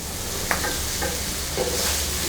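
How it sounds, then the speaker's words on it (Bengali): Water lily stalks stirred in a hot pan with turmeric and salt, a soft steady sizzle with a few light scraping strokes of the spoon at close range. "এবার ভালোভাবে নেড়ে চেড়ে ডাটাগুলা যতক্ষণ না সিদ্ধ হয়ে আসছে ততক্ষণ এভাবে নেড়ে চেড়ে দিতে হবে"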